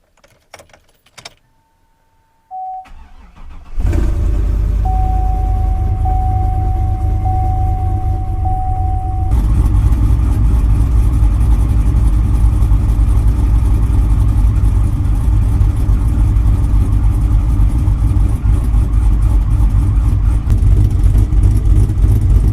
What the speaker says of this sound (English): we got to get a cold start before we head out